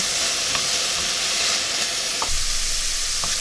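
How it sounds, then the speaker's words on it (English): Mushrooms sautéing in a pan on high heat, a loud continuous sizzle with occasional soft clicks of a utensil stirring them, alone without speech. "we're working on a high heat, and just keep them moving until they're a little bit brown"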